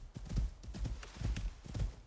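Hooves of a ridden buffalo in the video game Icarus: Olympus, heavy rhythmic thuds in a steady galloping pattern, loud and close.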